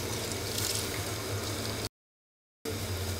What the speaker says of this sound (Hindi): अब मैं इसमें शामिल करूँगा चावलों को